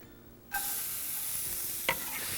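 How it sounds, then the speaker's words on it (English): Red onion and garlic hit hot olive oil for a chard dish with a sudden loud hiss, then settle into a steady close sizzle, with one brief scrape of stirring partway through. No one speaks. "And the onions go right in."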